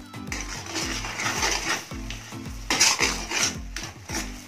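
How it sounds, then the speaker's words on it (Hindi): A utensil stirs and scrapes maize paste as it cooks in oil in a pan over a medium-low flame, making repeated rhythmic scraping strokes with clinks against the metal pan and a faint sizzle underneath. "अब इसे लगातार हमें मीडियम लो फ्लेम पर 5 मिनट इसमें पकाना है"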